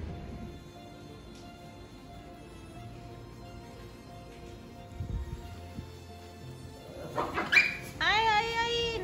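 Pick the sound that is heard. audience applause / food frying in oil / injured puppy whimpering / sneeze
injured puppy whimpering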